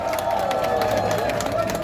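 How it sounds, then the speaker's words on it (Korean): An outdoor campaign rally crowd in Pyeongtaek claps and cheers to welcome a former provincial governor to the stage, a broad roar of many hands and voices heard over loudspeaker chatter. "여러분 큰 박수로 맞아주십시오."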